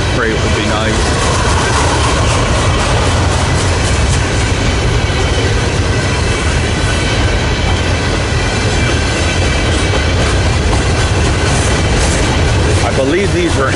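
Modern freight train rolling past a station, a loud continuous rumble of heavy wheels on rails with rhythmic clicking and faint squeals throughout, close by and steady for the whole stretch.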